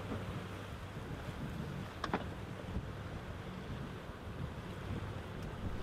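Sailboat running downwind at sea, a faint, steady wash of wind and water rushing past the hull, with a brief creak or knock near the middle and no speech.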